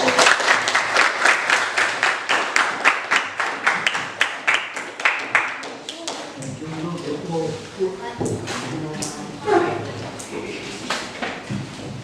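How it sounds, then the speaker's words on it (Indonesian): Classroom applause from a group of students, a burst of quick claps for about six seconds that fades into murmuring voices and chatter. "Kita beri tepuk tangan dulu"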